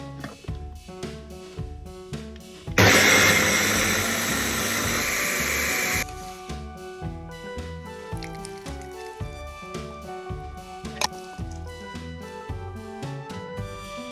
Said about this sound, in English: Blend until smooth.